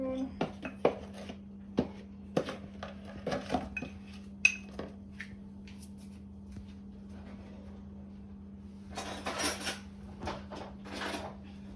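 A spoon mixes dry ingredients with nutmeg and salt in a bowl for Bajan coconut sweetbread, giving scattered light clinks and scrapes over a low steady hum, then a burst of soft rustling near the end.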